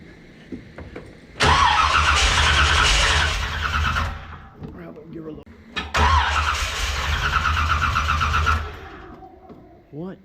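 A 1981 Corvette engine, just fitted with new intake manifold gaskets, revs up loudly twice with more throttle, each burst holding for a few seconds before dropping back toward idle, with a voice heard between the revs.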